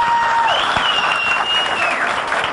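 Live concert audience giving loud, sustained applause for a singer, a dense wash of clapping filling the whole stretch with a faint whistle riding over it.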